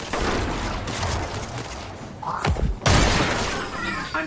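Shotgun blasts from trap shooting in a video game, a couple of sharp cracks with booming tails among steady background game noise.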